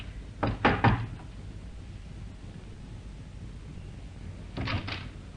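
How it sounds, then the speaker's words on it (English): Knuckles rap on a flat's door in a radio drama: a quick burst of three knocks, a pause of several seconds, then two more, dull and moderately close against quiet background hiss. "But instead, he knocked."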